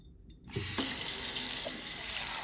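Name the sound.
filling a can with water from the tap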